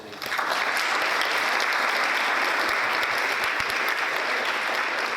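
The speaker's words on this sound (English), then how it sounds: "Let's give him a round of applause." A school board meeting audience gives a dense, steady round of applause that holds at an even level from start to finish, with no talking over it.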